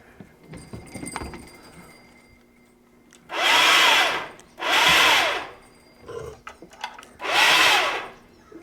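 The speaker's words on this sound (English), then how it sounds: "So far my little winch is working beautiful." Portable electric hoist winch from Amazon running in three loud, sustained motor bursts of a few seconds each with a rising and falling whine, separated by a short quieter whir and clanks of chain or hook before.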